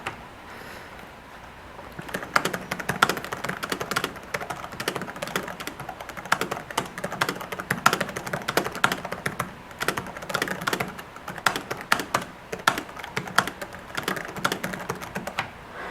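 Fast, steady typing on a Dell Latitude E5500 laptop keyboard with mushy keys produces soft, close clicks in irregular bursts, alone and fairly quiet.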